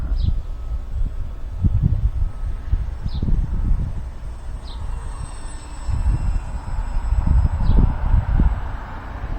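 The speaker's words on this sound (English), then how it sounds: "Wee-oh, it's windy." Gusty wind on a windy day at a Waco flying field thumps and rumbles against the microphone in uneven bursts, with a few short high chirps breaking through now and then.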